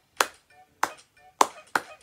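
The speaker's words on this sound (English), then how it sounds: "now four times, clap four times." Four sharp claps ring out evenly spaced during a preschool morning singalong of the Bingo song, close and distinct with brief faint tones between them.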